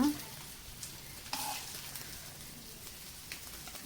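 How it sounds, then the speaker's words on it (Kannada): Pomfret fish fries on a tawa with a steady, soft, crackling sizzle. The frying is fairly quiet, with a few brief louder spatters and no voices over it. "ಫಿಶ್ಶು ತವಾ ಫ್ರೈ ರೆಡಿಯಾಗಿದೆ ಈಗ"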